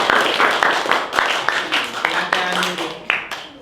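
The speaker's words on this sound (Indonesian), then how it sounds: "Oke, tepuk tangan semuanya." A class of students clapping their hands together in a classroom, a brisk run of sharp claps close by with some voices mixed in.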